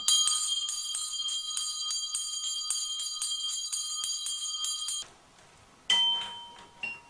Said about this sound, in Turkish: zil sesi için kullandığı orijinal çan